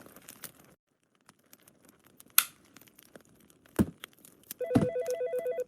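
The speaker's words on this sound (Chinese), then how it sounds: "怎么会有电话声？" A telephone in the horror game Dread Flats begins ringing near the end, a loud electronic trill pulsing in a steady repeating rhythm, preceded by scattered thuds, a rustle and a sharp hit in an otherwise quiet room.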